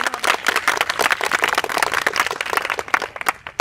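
Students in a school gathering clap for their classmates, a dense, continuous burst of many hands applauding together with no voices over it.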